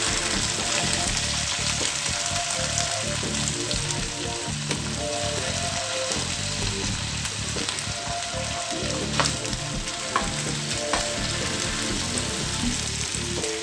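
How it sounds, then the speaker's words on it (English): Thin slices of potato frying in oil with ginger garlic paste for Chinese-style braised potatoes, a dense, continuous loud sizzle close by with a few sharp spits and faint stirring, and no talking. "Once the gingergarlic paste has fried a little bit, I'm going to add my potatoes."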